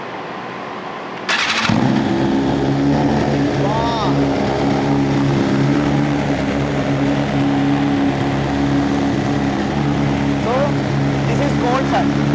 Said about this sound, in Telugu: ఇది అంత హైప్ అయింది కదా cold స్టార్ట్లో. First engine settle down అవ్వాలి.